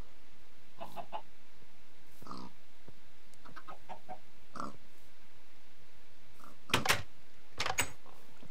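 Chickens clucking in the video game Minecraft, with a few short, quiet clucks spaced out early on and then two louder bursts close together near the end, with no talk.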